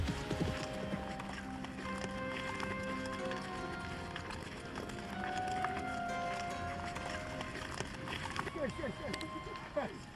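Horses ridden by herders in Central Asia clip-clop steadily over ground, a busy run of hoofbeats through a noisy outdoor scene with voices mixed in.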